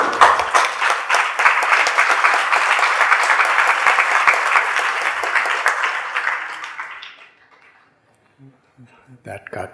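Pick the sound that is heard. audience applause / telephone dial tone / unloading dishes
audience applause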